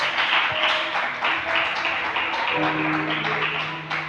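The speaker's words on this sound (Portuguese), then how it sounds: "Vamos aplaudir o Senhor por isso." A church congregation claps together in praise, a broad, continuous wash of applause with occasional louder bursts, steady and fairly close throughout.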